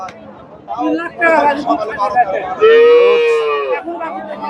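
A large Friesian cow at a busy cattle market lets out a long, loud, drawn-out moo over constant crowd chatter and nearby talking.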